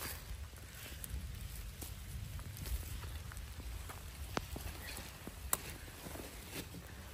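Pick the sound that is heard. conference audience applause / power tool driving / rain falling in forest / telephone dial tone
rain falling in forest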